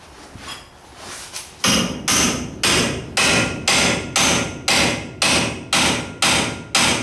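Steady, loud hammer blows, about eleven of them at an even pace of roughly two per second, ring out metallically up close as they knock a tie rod loose on a Chevy Nova, after some lighter taps at the start.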